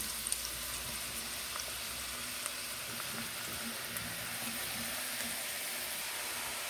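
Chopped mushrooms sizzle steadily in about 50 grams of melted margarine in a pot, a soft, even hiss with faint crackles throughout, no talking.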